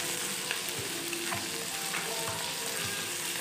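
Onions sizzle in hot oil in a pan, a close, steady frying hiss with soft, regular stirring scrapes running throughout.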